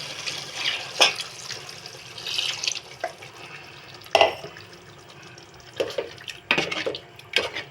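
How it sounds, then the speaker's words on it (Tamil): Water swishes and splashes inside a mixer jar being rinsed, with occasional clinks of the jar against metal, close and intermittent, no talking. "அரைச்சி வச்ச மிக்சியில் கழுவி கொஞ்சம் தண்ணி சேர்த்துக்கலாம்."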